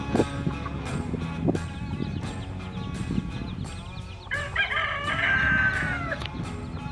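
Chickens cluck and call against a busy backdrop at a campground, hens with small chicks, with one drawn-out crowing cry standing out near the end.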